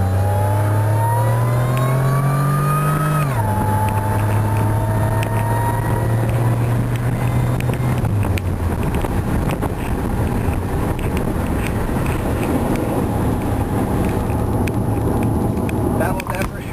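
Buick Regal GS with a factory supercharger revving hard near a wall, a loud rising whine climbing in pitch and then holding steady and fading into engine and road roar, with wind buffeting throughout.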